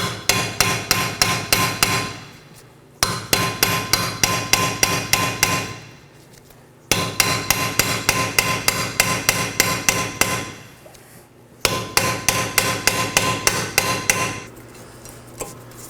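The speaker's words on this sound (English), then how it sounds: "It is a T30. I'm use an impact driver to remove it." An impact driver hammers out a T30 rotor screw on the front wheel hub of a 2018-2024 Chevrolet Equinox. Four loud, close bursts of rapid rattling blows are separated by short pauses, with no talking.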